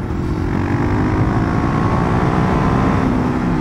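A Kawasaki KLX450R dirt bike being ridden, its engine a loud, close, steady roar throughout with no voices.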